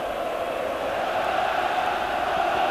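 Vasco supporters roar as a steady, dense crowd wash filling a football stadium during a 2015 Brazilian league match against Goiás, unbroken and loud throughout with no distinct voices standing out.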